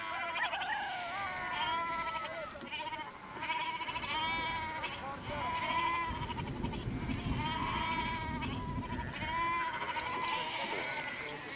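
A goat in rural Iran bleats repeatedly, loud and close, in a string of wavering calls over a low rumble.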